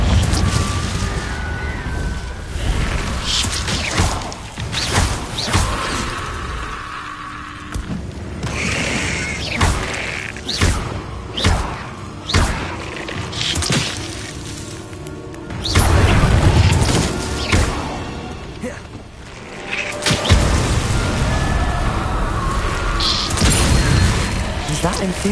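Confringo blasting spells in Hogwarts Legacy, heard as a run of loud, crashing bursts and booms over a busy game soundscape, with a heavy impact near the middle and voices talking throughout.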